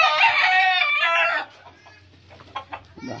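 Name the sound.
chickens clucking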